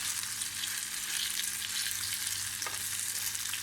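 Grated potato fritters (mücver) frying in hot oil, a steady bright sizzle with faint crackle and a brief soft bump as one is flipped, close and continuous with no one speaking.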